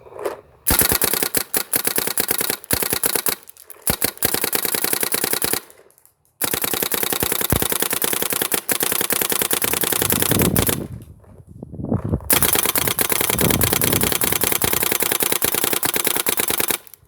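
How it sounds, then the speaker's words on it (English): A Smart Parts GoG EXTCY paintball marker fires through a pod of paint in rapid, loud bursts. The rattling volleys come close and are broken by a few short pauses. "I'm going to shoot this pod and just show that it works."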